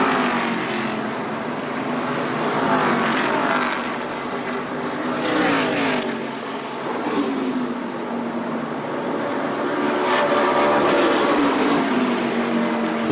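ARCA Menards Series East race cars roar around Dover International Speedway, a loud, sustained engine drone that swells and fades in pitch as the cars pass in a close side-by-side battle.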